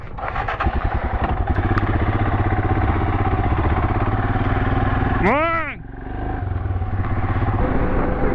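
Royal Enfield Himalayan motorcycle riding on a mountain road, its engine droning loud and steady with clattering and wind, briefly dipping as a rising-falling whine cuts across midway; someone speaks briefly.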